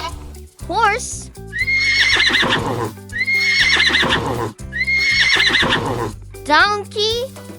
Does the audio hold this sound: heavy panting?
no